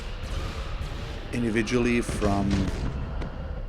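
Forward weapon battery on a warship in Battlefleet Gothic: Armada firing, a heavy burst of booming artillery-like shots mixed with game sound and someone talking over it.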